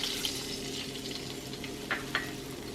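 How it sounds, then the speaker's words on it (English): Beef broth poured into a hot pan just used for searing filet mignon, giving a steady close hiss and sizzle with a few brief bubbling pops near the end. "beef broth right to the pan."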